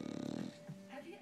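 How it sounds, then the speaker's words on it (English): A dog snores in quick, rhythmic rasping pulses up close, then stops as a person starts speaking softly. "You just snoring?"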